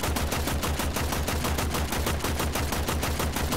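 Rapid automatic gunfire in the video game Warframe hammers out in an even, fast burst that runs the whole time, loud and close, with no voices over it.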